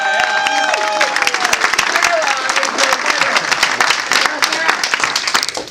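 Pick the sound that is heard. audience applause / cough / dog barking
audience applause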